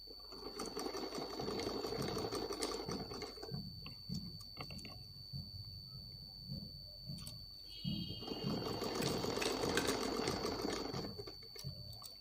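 A sewing machine stitches an umbrella-style frock, giving a continuous close whirring hum with rapid needle chatter that eases in the middle and picks up again, with no talking.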